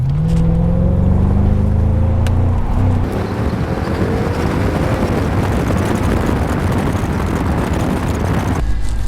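A custom wide-body Mercedes CLK 55 AMG convertible accelerates hard, its loud engine note climbing in pitch and then settling into a sustained, rushing roar up close, with no talking.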